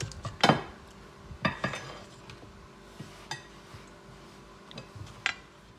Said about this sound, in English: We're going to stir that and then set it aside to set for 10 minutes.